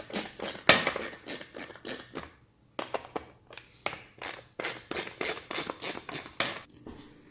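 T20 Torx screws come out of a steering wheel bezel, heard as a close series of rhythmic ratcheting clicks in two runs with a short pause between them.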